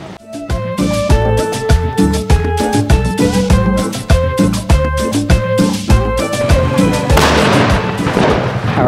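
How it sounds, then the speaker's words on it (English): Explosions at the Exploding Hammer Festival in San Juan de la Vega, Guanajuato, a dense, loud series of booming blasts out in a field, coming in rapid irregular bursts and echoing continuously. "we're heading out to the field and that's where the big explosions are happening"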